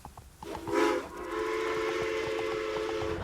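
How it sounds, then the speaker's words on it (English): A steam-style train whistle blows, then holds a long, steady tone as a train passes in the SpongeBob Cosmic Shake video game, with rhythmic rail clatter beneath. "Watch out for that train that SpongeBob just barely missed"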